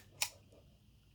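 A Canon AE-1 film camera fires its shutter at 1/15 second, making two crisp mechanical clicks about a second apart. The clicks are close and distinct against a quiet room hum.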